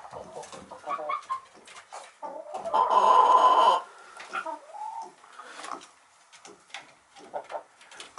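Chickens cluck and murmur in a backyard coop during a snowy winter day, with hens including Buff Orpingtons and sex links; a louder, sustained squawk rises in the middle among scattered short calls.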